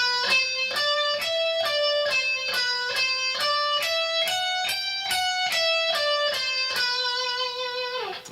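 Electric guitar slowly plays a combination of four-note and six-note groups running up and down, clear separate picked notes in an even pulse, close and alone.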